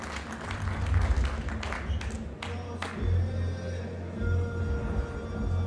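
Scattered crowd applause inside an MMA fight event arena, sharp individual claps early over a low rumbling hum and background crowd noise, thinning out as it goes.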